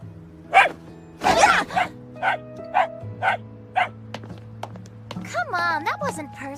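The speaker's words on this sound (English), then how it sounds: "Oh, it's a puppy!" Small puppy barking and yipping in an anime scene, several short high barks in an uneven rhythm, close and clear, with a whimpering tone near the end and voices talking underneath.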